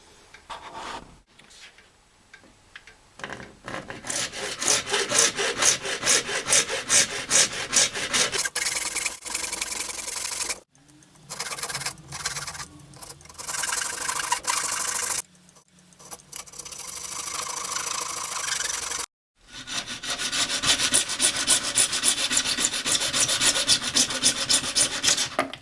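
Cutting an opening into an acrylic organ pipe, a close, continuous rasping and scraping of a blade working through plastic in rhythmic strokes, with a few brief pauses.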